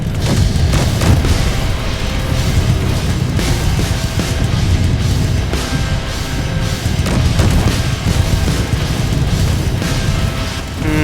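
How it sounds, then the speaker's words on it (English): Loud, continuous barrage of booming explosions and crashing blasts from missiles in the video game Space Engineers, rumbling heavily with bursts of destruction layered over one another. "That's a lot of explosions and destruction, my friends."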